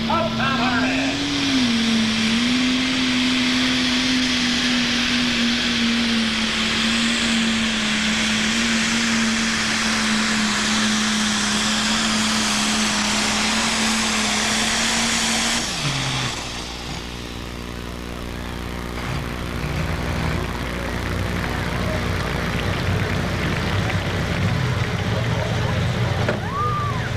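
A single-turbocharged stock block engine making about 1,000 horsepower in a pulling vehicle roars loud and steady at a 1994 tractor pull in Imlay City, Michigan, then drops off abruptly and settles to a lower idle, with an announcer talking throughout.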